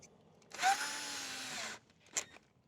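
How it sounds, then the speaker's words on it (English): A power drill whirs up and runs steadily for about a second drilling a pilot hole in a Toyota Landcruiser Prado 250 tailgate, then stops, followed by a brief click. "I'm just going to drill just a little pilot hole in there like that"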